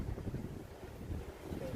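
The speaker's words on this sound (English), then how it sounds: "But it's windy." Wind blows outdoors, buffeting the microphone with a low, rumbling, gusty roar that holds steady across the brief stretch.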